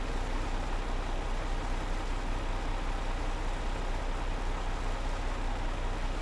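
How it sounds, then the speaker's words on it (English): Farming Simulator 22 tractor left running while unloading, a steady low engine drone with even broadband noise throughout, no talk over it. "you got to leave the tractor running while it's unloading"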